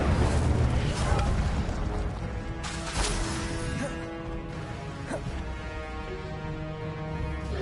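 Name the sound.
Incendio fire spell in video game Hogwarts Legacy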